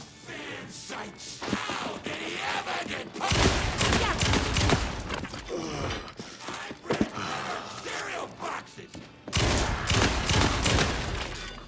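Gunfire in the video game Alan Wake 2 comes in loud rapid bursts with sharp impacts, broken by short lulls and then resuming.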